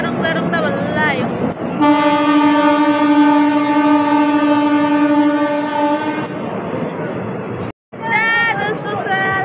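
A train arrives with a long, loud horn blast held for several seconds over the rumble of the rails, then further short horn toots; people talk over the noise.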